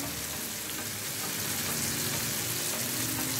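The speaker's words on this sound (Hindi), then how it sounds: "टमाटर और हरी मिर्चें हमने इसमें अच्छे से फ्राई कर ली हैं" Tomatoes and green chillies fry in a karahi with a loud, dense, continuous sizzle and hiss close by, steady without pause.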